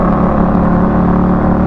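2022 Indian Chief motorcycle engine running and revving, a loud, steady low throb with a deep harmonic drone, heard close and continuous with no talk over it.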